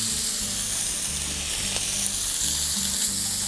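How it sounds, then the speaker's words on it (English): Rockfish rubbed with rooibos sizzling in hot melted coconut oil in a pan, a loud continuous frying hiss, close and alone. "our rockfish can hit the pan right away"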